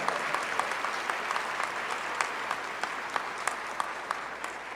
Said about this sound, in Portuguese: Pode aplaudir para valer, aplaude com força.